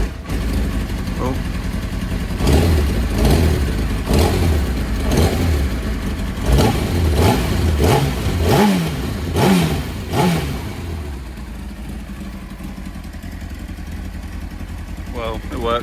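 A Kawasaki motorcycle engine, just fitted with a new regulator rectifier, revs up repeatedly in loud, rhythmic bursts close by. It then settles into a steady idle.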